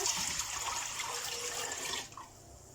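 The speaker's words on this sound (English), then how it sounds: "This is the rest of the elderflower infusion. I'm just going to add it to the saucepan." Elderflower infusion pours into a saucepan in a steady, splashy stream for about two seconds, then stops, leaving a faint trickle.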